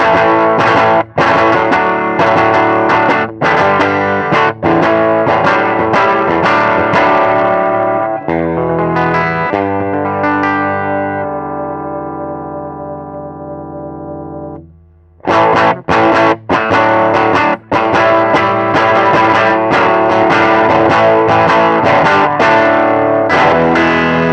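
Electric guitar played through a vintage 1952 Fender 600 amp turned up into heavy, gritty distortion: loud strummed chords, then a long sustained chord slowly fading out, then more choppy strumming.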